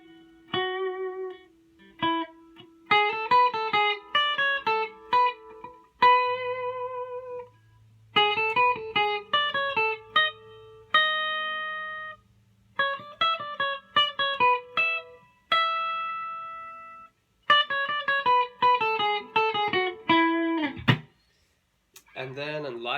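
Electric guitar playing a riff, clean sustained plucked notes in repeated phrases with short pauses between them, played solo.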